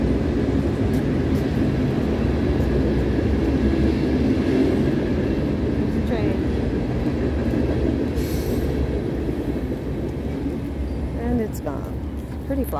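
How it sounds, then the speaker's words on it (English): A train in Chesterton, Indiana, rumbles steadily past nearby, a continuous loud roar with faint wheel squeals and clatter throughout. "Oh, there's a train."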